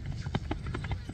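Orlov trotter horse running, with a quick series of rhythmic hoof clip-clops at moderate distance over background noise.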